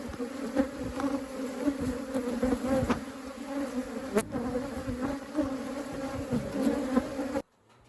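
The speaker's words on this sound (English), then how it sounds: "I found some bees just gathering around it" Bees swarm and gather around a flow hive, a dense continuous buzzing drone close to the microphone with shifting pitch as individual insects pass, cutting off abruptly at the end.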